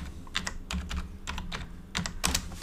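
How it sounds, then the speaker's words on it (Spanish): Password being typed on a computer keyboard, a series of quick, close key clicks in short bursts with brief pauses between them. "tecleo la contraseña"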